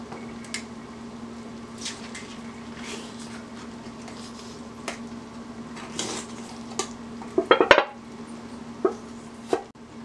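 Knife slicing pork luncheon meat into strips for Liberian potato salad, a few soft cuts and then a quick cluster of sharp taps on a board near the end, over a steady low hum.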